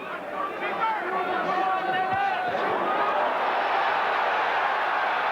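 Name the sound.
British fans chanting in boxing arena crowd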